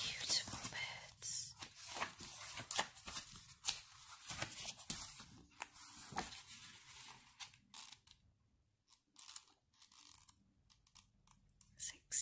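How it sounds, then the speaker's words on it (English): Pages of a bird book being turned close up, a series of crisp papery rustles and soft creaks in bursts, with whispering woven between the page sounds before a quieter stretch near the end. "Excuse the page turning."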